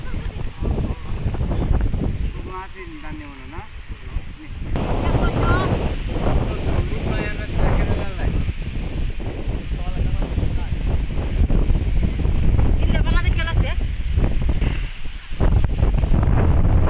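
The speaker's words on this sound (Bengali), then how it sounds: "প্রচুর বাতাস" Strong gusting wind over a haor wetland during a sudden storm, heavy buffeting roar across the microphone with a brief drop, people talking beneath it.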